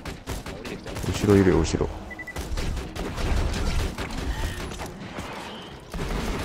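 Automated turret in Borderlands 2 firing repeated gunfire bursts, loud and sustained, with players talking over it.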